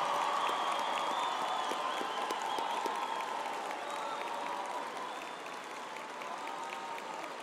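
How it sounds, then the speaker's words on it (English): An audience at a university humanities graduation ceremony applauds the graduates, a broad wash of clapping in a large hall that gradually thins and softens toward the end. "let us give our graduates a last round of applause for their hard work and perseverance"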